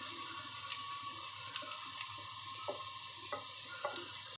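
Beef masala frying in a pan gives a steady close sizzle, with occasional soft scrapes and taps as the mixture is stirred. The whole stretch is quiet and continuous, with no voices.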